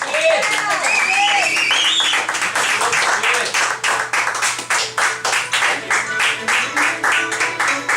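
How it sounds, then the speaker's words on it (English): A crowd at a lively event gives a loud round of applause, beginning with whoops and shouting voices over the clapping before it settles into a rapid, rhythmic patter of claps. "Everybody give a round of applause."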